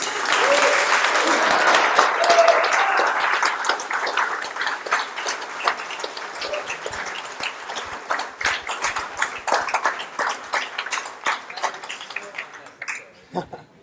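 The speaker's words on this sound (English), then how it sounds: "give a big round of applause for Adam spending his time to be here" A startup networking event audience breaks into a dense wash of applause that gradually thins into scattered individual claps, with some voices mixed in as it tapers off.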